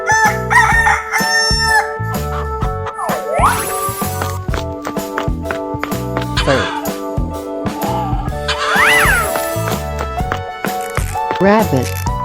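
A rooster crows a few times in a 3D animal slide video game, the cock-a-doodle-doo calls popping out above steady upbeat game music and sound effects.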